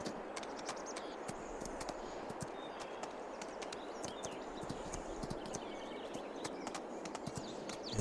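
Steady, continuous clip-clop of horse hooves from horses ridden in Farming Simulator 22, a dense even patter with no voices.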